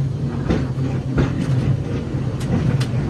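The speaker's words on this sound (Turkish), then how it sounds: "Ve çok sayıda yolcu binecek şimdi nostaljik tramvaya." Nostalgic tram at the busy Kadıköy Çarşı stop, heard as a steady low rumble of rail traffic with scattered clanks and brief hisses, fairly loud and continuous, with no voices.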